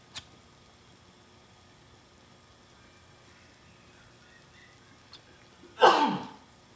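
A single sharp sneeze bursts out near the end of an otherwise quiet kitchen scene, loud and close after a few faint clicks.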